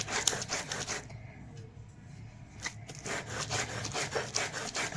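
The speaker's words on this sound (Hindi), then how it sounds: "एक बार और पीस लेते हैं" Rough rhythmic grinding and rubbing of stone on stone as garlic-leaf chutney is ground on a stone slab, a repeated back-and-forth scraping at close range, with a brief pause midway.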